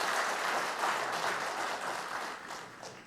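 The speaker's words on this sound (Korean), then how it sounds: "서종환 회장님께 다시 한번 큰 응원의 박수" Sustained audience applause for chairman Seo Jong-hwan at the founding ceremony of a memorial society for independence activist Gye Yeon-su, steady clapping that fades slightly toward the end.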